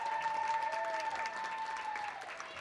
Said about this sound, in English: give Moshkow a nice round of applause as she comes out